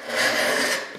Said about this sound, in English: They say the true test of how sharp it is to try to plane some end grain